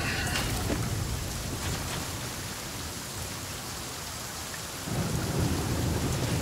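Steady rain pours in the video game Flame in the Flood, with a low thunder rumble swelling near the end, loud and continuous throughout with no voices.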